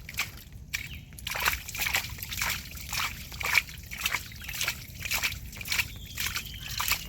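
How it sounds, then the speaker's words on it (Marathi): Water is bailed out by hand from a flooded hole around a stuck pump, making repeated sloshing scoops and splashing pours in an uneven rhythm, close and fairly loud. "पाणी काढ उपसून"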